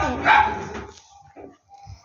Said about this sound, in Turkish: yine köpek kavgası pardon